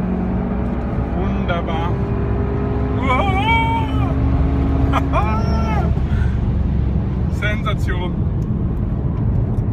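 A 300 hp VW Golf Variant R on the Ascari race track, its steady engine drone running beneath someone speaking excitedly over it.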